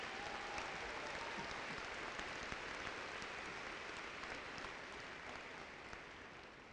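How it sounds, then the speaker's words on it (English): At a 2018 Air Academy graduation, the audience gives sustained applause for the faculty and staff. It is a steady wash of many hands clapping, heard from a distance and fairly faint, with no speech over it. "please give our faculty and staff a round of applause for all they have done in shaping your future."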